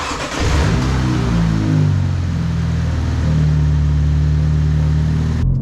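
A 2023 Mini Cooper S fitted with a JB4 tuner drives on the road, its engine droning loud and steady from inside the car and rising in pitch as it accelerates through the gears.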